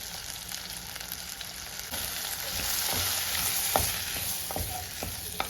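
Kashmiri chili powder and coriander powder fry with mango pieces in a pan for Kerala-style mango curry, a steady close sizzle with scraping stir strokes and a few sharp clinks of the spoon against the pan.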